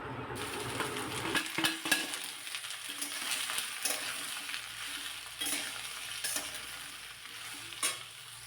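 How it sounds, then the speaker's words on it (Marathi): Chopped okra frying with garlic in a pan, a close, continuous sizzle broken by repeated spatula stirring scrapes and clinks, with no voices. "त्यामध्ये चिरलेली भेंडी घालायची"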